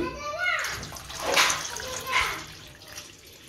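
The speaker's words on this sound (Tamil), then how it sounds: "இன்னும் 2 உலக்கு தண்ணி சேர்த்துக்கலாம்" Water is poured into a pot of rice and coconut milk for ghee rice, a splashing, gurgling pour in a few surges over a few seconds, with a voice speaking over it.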